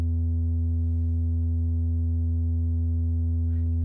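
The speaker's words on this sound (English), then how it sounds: "you will only hear oscillator 1 because of the routing" A single FM synthesizer oscillator sounding alone as a steady, sustained tone with a strong low fundamental and a stack of even harmonics, holding unchanged throughout with a faint click near the end.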